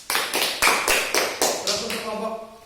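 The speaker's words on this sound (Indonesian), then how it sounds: "Ya, tepuk tangan." A class applauds in a classroom with a run of sharp, evenly spaced claps, about seven bursts in a row, while voices carry underneath.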